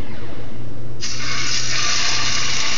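A pot set on a lit propane burner while cooking black-eyed peas, hog jowls and cabbage greens gives off a loud, steady broadband sizzle that starts abruptly about a second in and holds to the end over a low burner hum.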